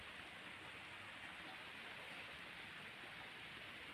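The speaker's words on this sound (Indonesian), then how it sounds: "Tuh, teman-teman, hujan." Steady rain falls over a carrot and vegetable crop field, a dense, even hiss with no breaks and no one talking over it.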